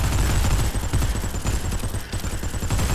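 Rapid, dense gunfire from the zombie mode of Call of Duty, with continuous loud bursts of shots filling the whole short stretch.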